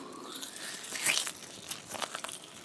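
A squishy stress ball filled with little styrofoam balls is squeezed close up, giving soft crunchy crinkling and crackling that swells then fades in uneven bursts.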